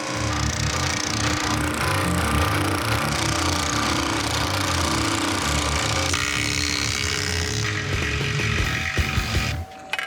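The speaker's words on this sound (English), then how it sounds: "I'll go over on the power hammer and kind of start tuning it in" Loud, continuous rapid hammering of a power hammer shaping sheet metal, a dense mechanical pounding that runs almost the whole time before stopping abruptly near the end.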